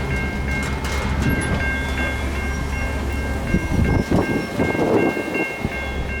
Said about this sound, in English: This was a manifest train heading for Canada, led by 2 C44-9Ws.